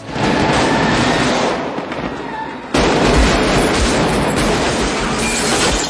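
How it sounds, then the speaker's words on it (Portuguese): Dense, continuous film gunfire and booming explosions from the movie Heat roar throughout, with a sharp jump in intensity midway, reverberating between skyscrapers. "ecoando o som dos disparos e explosões entre os arranha-céus"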